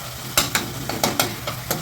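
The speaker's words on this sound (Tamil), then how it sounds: "தக்காளி கொஞ்சம் நல்லா வதங்கிடுச்சு." Tomatoes sautéing in a pan for pasta, with a spatula scraping and stirring in about seven crisp, evenly spaced strokes over a low, soft sizzle.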